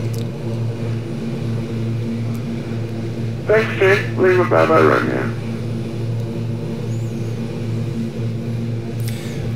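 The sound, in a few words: King Air turboprop aircraft in flight, from a flight simulator game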